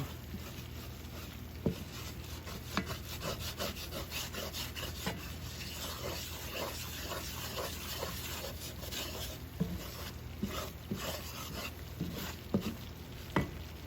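A flour roux for béchamel sauce being stirred in a pan, with continuous scraping and rubbing of the utensil and occasional sharper taps and clicks, close and steady, with no talk.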